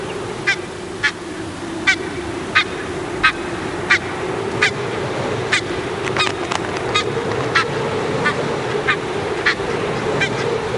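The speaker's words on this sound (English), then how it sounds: "one chick responds to their parents' calls" Geese give repeated honking calls to their goslings on a cliffside, evenly spaced and fairly close, over a steady wind or surf background.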